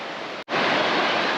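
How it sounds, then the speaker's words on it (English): Steady broadband roar of a waterfall on a hiking trail in Glacier National Park, loud and continuous, with a brief cut in the middle before the rush resumes. "Sweet looking waterfall."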